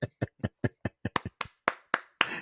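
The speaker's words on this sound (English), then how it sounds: "That's the clap" A single person clapping a dozen or so sharp, close hand claps in an uneven rhythm, quickening toward the end, standing in for a podcast soundboard clap effect.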